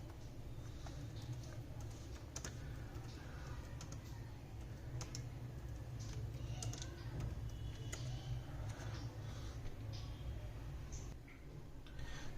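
Typing on a computer keyboard while writing code, with a steady run of soft, irregular key clicks close by over a constant low background hum.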